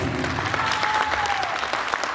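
An audience at a theatre studio concert claps steadily, a dense crowd applause that holds at an even level throughout, with a faint tone briefly showing in the middle.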